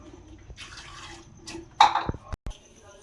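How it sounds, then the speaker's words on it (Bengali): Potatoes dropped one after another into a pot of water on a gas stove, giving a short burst of splashing and plopping at close range, with quieter tapping and faint room noise before it. "জ্বালিয়ে হতে আলুগুলো আমি এর মধ্যে দিয়ে দিচ্ছি।"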